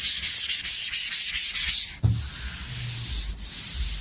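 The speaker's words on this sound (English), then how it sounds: "I'm going to try to rub out a little bit of the imperfections and a little bit of the couple little drips I had." Hand sanding rubs out paint drips on the rattle-can painted roof of a 1962 Comet. Quick rhythmic back-and-forth strokes give way to a longer, steadier rub, all loud and close.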